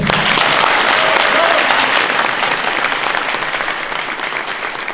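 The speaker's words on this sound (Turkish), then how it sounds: "Alkışlarınızla buyursunlar lütfen" Guests at a wedding ceremony applaud as people are invited forward, a thick, continuous wash of clapping that starts loud and eases off slightly toward the end.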